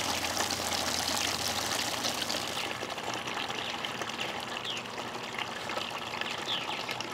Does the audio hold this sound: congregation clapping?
no